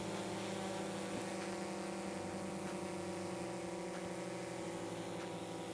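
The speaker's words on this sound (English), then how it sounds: "The Mavic 2 Pro is in the air." A DJI Mavic 2 Pro drone hovers in the air, its propellers giving a steady, continuous buzzing whine with layered motor tones that holds evenly at moderate loudness throughout, with no voices.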